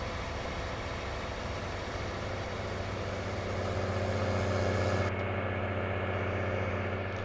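A tractor engine in the farming video game Farming Simulator 19 runs steadily at a low, even hum, swelling a little partway through. It is fairly quiet and there is no talking.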